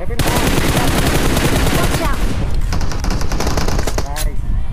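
Rapid automatic gunfire in BGMI, loud and close, with sustained bursts filling most of the stretch before easing off, while players talk excitedly over the shooting.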